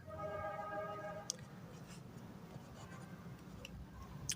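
A pen scratches on paper during a Class 7 algebra lesson, with short, faint strokes at close range under quiet room noise.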